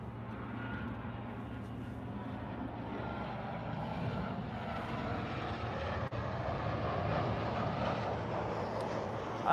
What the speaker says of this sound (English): Cathay about to make that turn, heading to the gates of Tom Bradley.